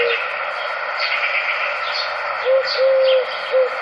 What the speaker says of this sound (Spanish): Son tórtolas turcas.